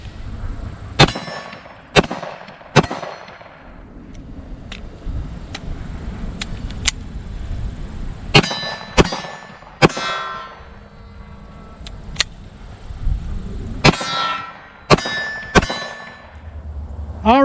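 Roughly ten sharp shots from a Tisas 1911 10mm pistol ring off steel plate targets outdoors, each crack followed by a bright metallic clang. They come in uneven clusters with short pauses between strings.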